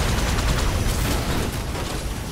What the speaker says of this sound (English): He's shooting rockets at you.